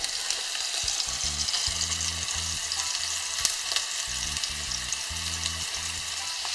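Beef pieces browning in hot oil in a pan give off a steady, close crackling sizzle, with a few brief louder pops and occasional low clunks from the pan.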